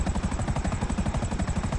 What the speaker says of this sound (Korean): 헬기 조종 잘합니다